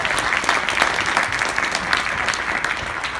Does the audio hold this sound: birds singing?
no